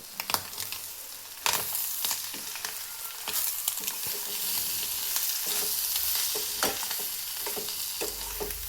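An egg fry with coriander is stirred in a hot pan: a continuous loud sizzle with scattered scraping and tapping of the spatula, close and with no one talking.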